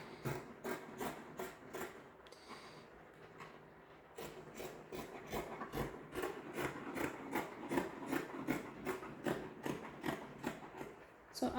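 Scissors cut fabric for homemade boxer shorts in a series of quick, regular snips, interrupted by a brief pause.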